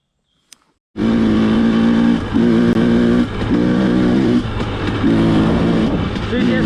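A loud 2018 Husqvarna TE250 dirt bike engine fitted with a jet kit starts abruptly after a faint click, then revs repeatedly in bursts, the throttle blipping up and down close by.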